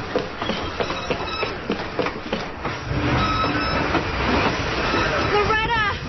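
A fast-moving train in a radio drama rumbles and clatters with rhythmic wheel noise and screeching tones, loud and continuous, with voices speaking over it.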